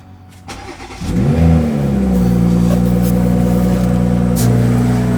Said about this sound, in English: we're gonna have to turn the car on